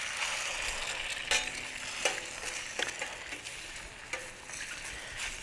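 Two eggs fry on a hot Weber griddle with a soft, steady sizzle and occasional spatula scrapes and taps against the metal, close and quiet, with no voices.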